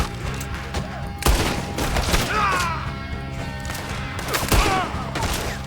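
Gunfire in the open-world Western game Red Dead Redemption 2, with a few sharp shots and bursts standing out over a busy in-game mix of ambience and background voices.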